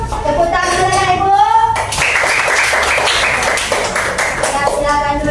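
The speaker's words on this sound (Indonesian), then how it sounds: "Tepuk tangan ya, Ibu." Applause from a classroom group rises after a short stretch of talk and continues for a few seconds, with voices speaking over the start and end of the clapping.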